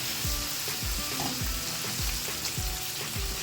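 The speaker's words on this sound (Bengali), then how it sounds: "প্রায় ভাজা হয়েই এসছে, খুব লাল করিনি, হালকা একটা ফ্রাই হয়েছে" Chicken pieces sizzle steadily in a hot pan for a Bengali thin chicken curry, a loud continuous fry with periodic low stirring scrapes and no voices.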